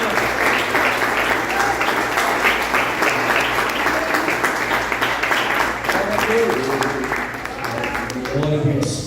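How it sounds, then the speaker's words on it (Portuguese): Congregation clapping during a Portuguese-language church service, a loud continuous patter of many hands with voices and low background hum underneath. "As palmas boas no nome do Senhor."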